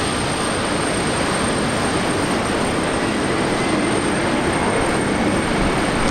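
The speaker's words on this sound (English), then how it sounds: "Jetstar coming in from Gold Coast." A Jetstar airliner arriving at Brisbane Airport from the Gold Coast, heard as a steady, loud broadband jet roar that holds constant throughout, with no voices.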